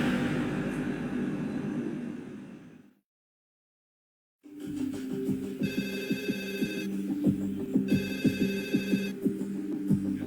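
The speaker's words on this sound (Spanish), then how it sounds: "Sonó el teléfono." A telephone rings in repeated electronic bursts, two clear rings separated by pauses, over a low droning background after a brief silent gap.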